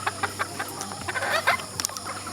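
Kelso gamefowl chickens cluck close by in a series of short, irregular calls and soft clucks, with no talking.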